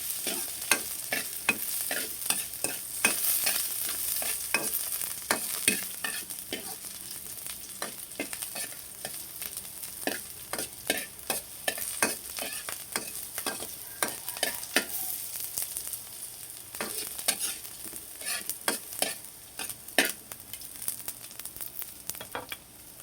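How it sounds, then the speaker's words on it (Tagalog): Garlic, onion and ginger sizzle steadily in a pan while a utensil stirs them, sharp scraping clicks repeating irregularly over a constant close frying hiss, with no talk. "Haluin natin."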